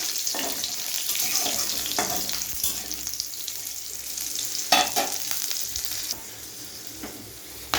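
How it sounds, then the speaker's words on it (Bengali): Whole garam masala spices frying in hot oil for a Bengali doi katla curry, a dense crackling sizzle with occasional stirring clicks, steady and close, fading slightly toward the end. "আর কিছু মশলা গোটা গরম মশলা দিয়ে দিলাম ওটা ভালো করে একটু ভেজে নিতে হবে"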